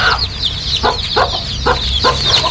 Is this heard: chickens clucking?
yes